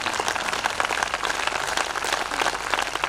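Steady applause from an audience at a Hindi comic poetry performance, dense and continuous clapping that fills the whole moment without pause.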